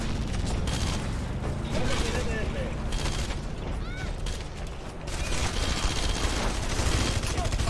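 Rapid gunfire in the video game Red Faction: Guerrilla, dense bursts of shots and mechanical clatter running continuously at close range, mixed with game effects and someone talking over it.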